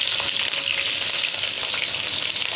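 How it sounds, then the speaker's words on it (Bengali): Green chillies fry in hot oil with a steady, loud broadband sizzle that stays constant throughout, close up, with no voices. "ক্যাপসি লঙ্কা দিয়ে দিলাম ভেতরে তেলে।"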